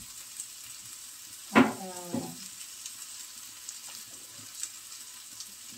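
An egg dropped into a hot pan with margarine sizzles in a sudden loud burst, then settles into a faint, steady frying hiss with occasional small pops.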